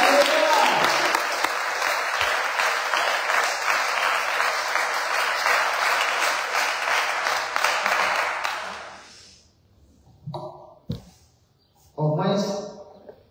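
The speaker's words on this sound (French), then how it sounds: "Acclame le Seigneur Jésus" A church congregation in Senegal bursts into sustained applause for about nine seconds, dense and fairly loud, then it stops and voices are heard speaking briefly.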